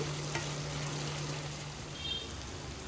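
Butter chicken masala stirred and fried in a pan, making a constant close sizzle with a low steady hum beneath and occasional light scrapes of the spoon, moderately quiet and uninterrupted.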